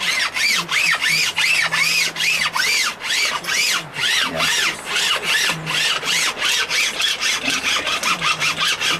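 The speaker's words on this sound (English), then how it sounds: "I'm only using this to get rid of the lacquer on the frets because it's, with it being a newer file, it's cutting quicker than me mill file" A newer hand file scraping lacquer off the frets of an old Telecaster guitar neck, loud, close rasping strokes in a fast, regular back-and-forth rhythm that keeps going throughout.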